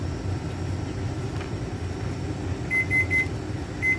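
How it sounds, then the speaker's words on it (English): A kitchen timer for boiling jar lids during jam making beeps four quick times, fairly faint, over a steady low hum of room noise. "And that is our timer for boiling our lids."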